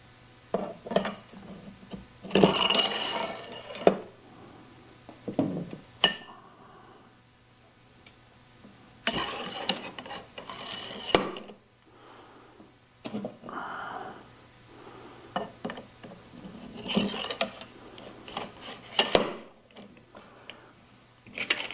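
Three metal blade extensions for a Sabretooth ProSetter blade setter being assembled, giving bursts of clinking, rattling and handling noise with quiet gaps between them, close by.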